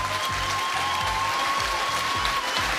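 An audience applauds the winning teams at a quiz show results announcement, a dense, steady clapping crowd with a rhythmic low thumping running underneath.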